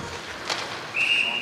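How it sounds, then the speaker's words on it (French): A referee's whistle stops play at an ice hockey game, one short, shrill, fairly loud blast rising over a diffuse arena crowd murmur. "Et là, on a sifflé l'arrêt de jeu."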